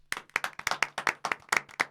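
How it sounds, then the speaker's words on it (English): A small group gives a short round of applause after a John Wick Hex gameplay taster, with a dozen or so crisp, distinct claps in a quick, uneven rhythm, close and clear with no talking. "Round of applause."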